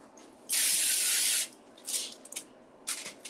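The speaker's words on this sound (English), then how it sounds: "So we have a little olive oil spray." Olive oil spray can giving one steady, close hiss of about a second, followed by a few shorter, softer spritzes in a quiet kitchen.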